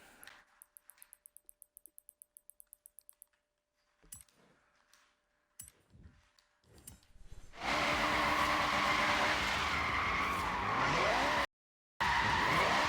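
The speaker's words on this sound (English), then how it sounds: "do you guys hear that turbo flutter?" In Forza Horizon 3, quiet rapid menu clicks give way to a loud, close car engine with turbo flutter, revving and sustained, with one brief cut near the end.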